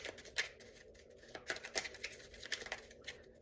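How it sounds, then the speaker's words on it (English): Soft, close rustling and crisp flicks as a tarot deck is shuffled by hand, irregular bursts of card friction at low volume with no talking. "Shuffle 2 more times and take the first 2 off the deck"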